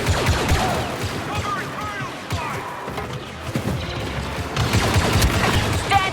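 Dense, loud blaster fire from a Star Wars Battlefront 2 battle on Endor, rapid overlapping shots and impacts throughout, with shouted voices mixed into the chaotic firefight.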